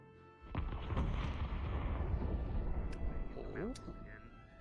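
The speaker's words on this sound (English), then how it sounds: "Did you just hear the explosions?" Heavy, rumbling blasts and booming noise fill the scene continuously, loud and close, with voices talking underneath.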